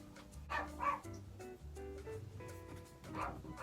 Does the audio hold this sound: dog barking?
yes